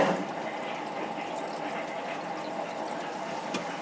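Water rushing through household plumbing after a supply valve is opened during a water heater element replacement, a steady even hiss and gurgle with no talk.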